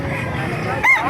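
At a busy chicken market, a brief rooster crow rises near the end of a second of crowded, noisy background.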